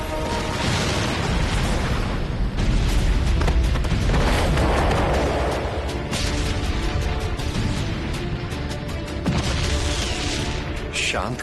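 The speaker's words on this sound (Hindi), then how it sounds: "शांत कैलाश पर यह विस्फोट की ध्वनि।" A deep, rumbling explosion with booming low-end roar and crackling debris, sustained over several seconds amid dramatic noise.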